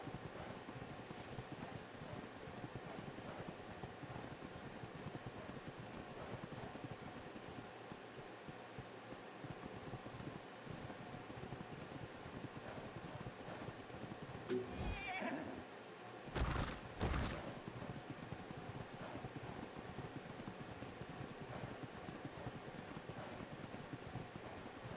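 Horse hooves clip-clopping in a steady rhythm with neighing while riding in the Ark: Survival Evolved video game, ongoing across the whole stretch, with brief louder bursts partway through.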